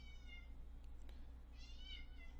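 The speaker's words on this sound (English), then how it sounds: "there's a cat that is being very loud for some reason" A domestic cat meows loudly indoors twice, a short cry and then a longer drawn-out one, over a low steady background hum with no one speaking.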